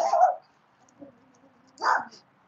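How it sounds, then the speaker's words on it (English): A small Chihuahua of about seven to ten pounds and a large dog of about 140 pounds bark indoors, two short close barks about two seconds apart with a faint whimper between them. "And Chilo is a little Chihuahua, about seven, ten pounds."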